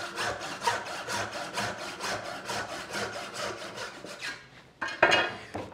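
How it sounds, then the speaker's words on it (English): A hand saw rips through hard maple just over an inch thick for dovetails, giving a steady series of rasping back-and-forth strokes up close, ending with a brief pause and a couple of final strokes. "Now, I'm cutting a piece of hard maple that's a little better than an inch thick."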